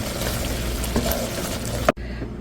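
Prawns frying and being stirred in a pan, a steady close sizzle with a brief scrape near the end before the sound drops away.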